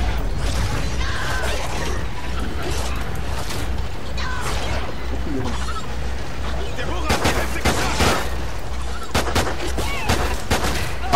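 Gunfire in Call of Duty Ghosts Extinction, dense continuous shooting and clattering mixed with louder bursts, with voices talking over the action throughout.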